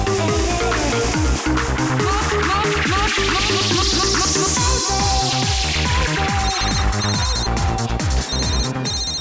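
A telephone rings continuously and loudly, its electronic trill repeating in a steady pattern layered over dense dramatic background music.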